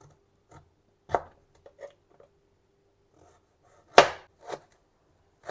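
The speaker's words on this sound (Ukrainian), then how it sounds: "Бачите, так, тоненько його нарізаю, а потім також смужками." A kitchen knife cuts beetroot into thin strips for Ukrainian red borscht on a board, giving sparse, separate crisp chops with quiet gaps between them, one stroke noticeably louder than the rest.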